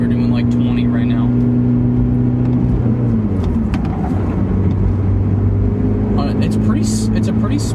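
A Toyota Matrix XRS hatchback rolling at about 20 mph on a slightly twisty road, a loud steady engine drone and road noise heard from inside the cabin with a shift in engine pitch partway through.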